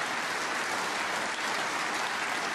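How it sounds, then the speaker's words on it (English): A snooker crowd at the German Masters semi-final applauds a shot, dense steady clapping filling the hall without a break. "And the crowd appreciating that shot."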